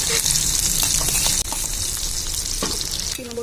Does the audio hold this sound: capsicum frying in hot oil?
yes